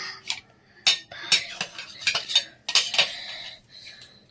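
A bread omelette being cut into pieces, with sharp clicks and scrapes of a utensil against a pan or plate coming in irregular bursts, close and fairly loud, with no talk.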